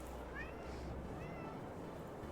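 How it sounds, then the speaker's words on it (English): A house cat meows twice in a row, short rising calls heard fairly clearly over a steady background hum, with brief voice sounds nearby. "Kitty."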